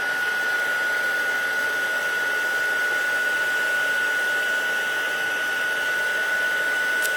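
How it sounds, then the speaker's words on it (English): An embossing heat tool blows hot air in a steady, loud whir with a constant high whine, running without a break while the powder is heated on a card. "So I'm going to warm up my heat tool here for a second."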